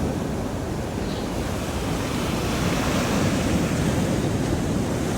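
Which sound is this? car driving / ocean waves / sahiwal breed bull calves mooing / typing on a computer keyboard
ocean waves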